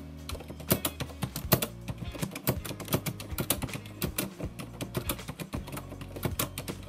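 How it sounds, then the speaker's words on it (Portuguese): Mechanical keyboard switches clacking in steady, fast typing, each keystroke a crisp close tap with the keycap bottoming out, no click, heard alone in a quiet room. "isso causa um barulho muito comum nesses teclados, que na verdade ele não tem o clique, mas tem um barulho diferente, que é dessa tecla batendo"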